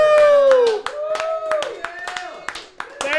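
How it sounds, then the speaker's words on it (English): Party guests clap at the close of a 100th-episode celebration, a patter of scattered handclaps under loud talking and cheerful voices. "Everybody clap."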